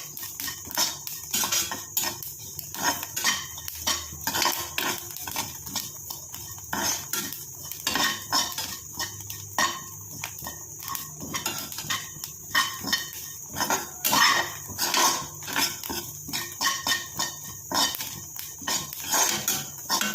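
Grated coconut dry-roasted and stirred in a pan until dark, heard as continuous busy scraping and clinking of a metal spoon against the pan, close and fairly loud with no voices.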